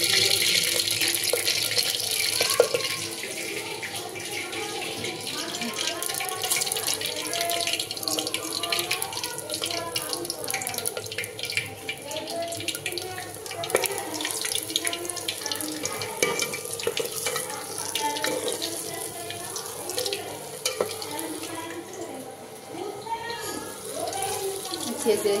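Ridge gourd peels frying in hot oil, a continuous crackling sizzle with bursts of spattering and occasional stirring, fairly close and steady throughout.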